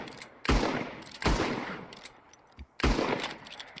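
Cattleman revolver from Red Dead Redemption fires three sharp, loud single shots spaced about a second apart, each with a short reverberant tail, no talking.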